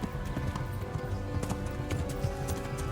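A horse gallops behind the player in the medieval video game Kingdom Come: steady, close hoofbeats clip-clop in rapid rhythm over a constant background wash.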